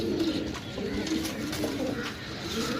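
Pigeons being sold in Sarai Alamgir, Jhelum, Pakistan coo steadily in a soft, low murmuring chorus close by, filling the whole stretch without talk over it.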